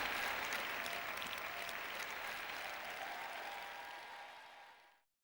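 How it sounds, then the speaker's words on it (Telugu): Clapping from the audience during a church sermon. A dense, steady patter of claps fades away and stops just before the end. "ఒక్కరే చప్పట్లు కొడుతున్నారు"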